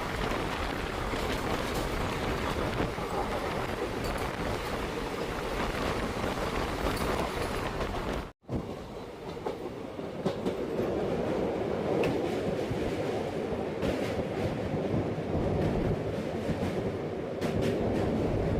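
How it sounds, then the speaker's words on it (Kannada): The Vande Bharat Express from MGR Chennai to Mysuru passes near Srirangapatna, heard from aboard the Wodeyar Express: a loud continuous rail rumble and rattle, briefly cut near the middle, then rolling on. "ಬಂತು ನೋಡಿ, MGR ಚೆನ್ನೈಯಿಂದ ಮೈಸೂರಿಗೆ ಬರೋ ವಂದೇ ಭಾರತ್ ಎಕ್ಸ್ಪ್ರೆಸ್"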